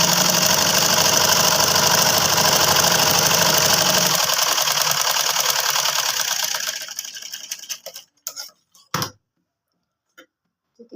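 A sewing machine runs fast and steady as it stitches a kurti trouser seam, a dense mechanical whir that slows and stops partway through, followed by a few short clicks and handling noises.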